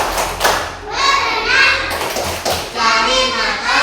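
A group of children performs the 'tepuk ikan' clapping chant, with sharp, loud claps in rhythmic bursts between chanted children's voices, recorded close in a classroom.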